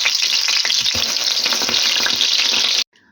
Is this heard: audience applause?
no